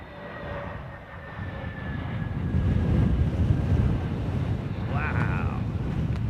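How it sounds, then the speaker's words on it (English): A TAP airliner approaches at London Heathrow Airport on a cold, gusty day, its engine roar building steadily over heavy wind buffeting the microphone, with a brief higher whine near the end. "This is a good looking aircraft, man"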